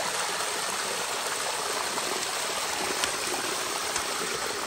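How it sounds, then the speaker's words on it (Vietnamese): A tall waterfall feeding a forest stream on a difficult jungle trail, pouring as a steady, dense broadband rush with no break, close and loud throughout. "Thác nhất rất là cao."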